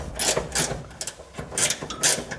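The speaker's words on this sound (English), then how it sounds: "this is just a battery-powered ratchet. It's actually an AC Delco brand" An AC Delco battery-powered ratchet loosens bolts on the door hinges of a 1973-1987 Chevy truck, whirring in four short, loud bursts separated by brief pauses.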